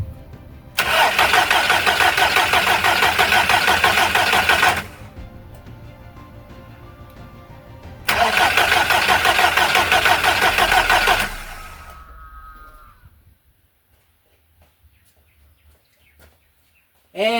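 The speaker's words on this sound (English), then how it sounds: "let's crank the car and see what's going on" A Volkswagen Golf Mk2 engine cranks in two long grinding bursts without catching, separated by a pause, then fades to near silence.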